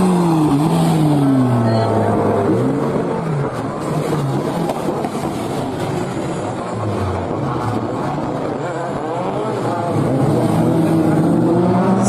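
Autocross race car engine driving hard, a loud continuous engine note rising and falling through gear changes across the whole stretch, with a voice speaking over it.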